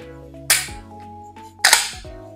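Two sharp mechanical clacks about a second apart, loud and close, as the pump action of a Landor 412 12-gauge shotgun is worked, over a low steady hum.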